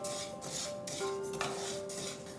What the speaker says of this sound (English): Put the sesame seeds into the pan and dry roast them for about 5 to 6 minutes.